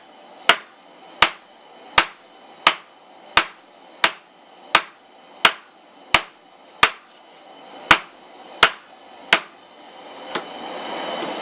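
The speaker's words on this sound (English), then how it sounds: "So we're going to just keep on hitting it, bring down that taper, and every blow we're turning 90 degrees." Hammer blows forging the taper of a center punch on hot steel: about fourteen sharp, ringing strikes in a steady rhythm, each decaying briefly before the next, the last one weaker.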